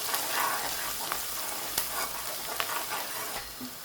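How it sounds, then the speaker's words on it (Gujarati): Onions with ginger fry in a pan, a steady close sizzle with occasional stirring clicks and scrapes running throughout, no talking. "ચાલો થોડીક વાર પાકા દેવાનું છે ડુંગળીને."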